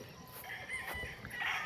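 Chickens and roosters kept by a breeder, a rooster crowing and hens clucking faintly at a distance with low yard noise.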